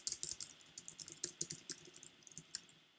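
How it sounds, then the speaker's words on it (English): Rapid, uneven clicking of keys on a computer keyboard, close and clear, with short bursts and brief pauses between strokes and no talking. "start typing."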